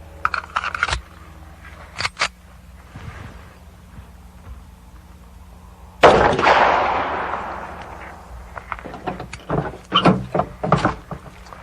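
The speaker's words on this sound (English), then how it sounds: "now we're going to try the 45. This is a 230 grain full metal jacket bullet first" A single loud report from a .45 pistol firing a 230 grain full metal jacket bullet at a door target, a sharp blast with a decaying tail midway, surrounded by scattered handling clicks and knocks.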